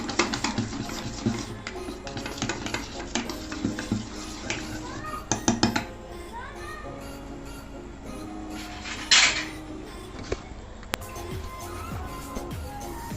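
Dhokla batter is stirred for a few minutes after baking powder is added. A spoon scrapes and clinks irregularly against the bowl, with bursts of rattling taps, a brief louder scrape later on, and quieter stretches between.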